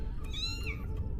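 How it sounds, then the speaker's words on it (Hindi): A cat meows close by, one drawn-out rising and falling call standing out clearly over a steady low background hum. "आवाज बिल्ली की थी और बहुत नजदीक से आ रही थी।"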